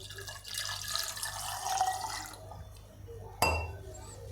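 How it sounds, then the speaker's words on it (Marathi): Cold water from a clay pot poured into buttermilk with gurgling and splashing, followed by a brief clink; someone speaks quietly over it. "याच्यामध्ये माठातलं थंड पाणी टाकून घेते"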